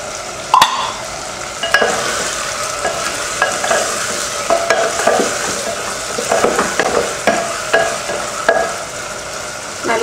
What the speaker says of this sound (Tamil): நல்லா வதங்கிட்டு இருக்கு.